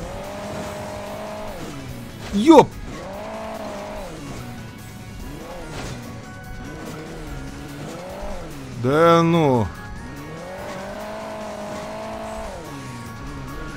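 A vehicle engine drones steadily in Hill Climb Racing 2, rising and falling in pitch, with two short, sharp tire-skid squeals standing out over it while a man exclaims loudly.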